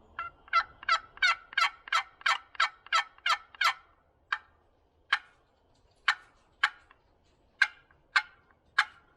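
A wooden turkey call, nearly 40 years old, plays a rapid series of sharp yelps, followed by slower, spaced-out calls, close and clear.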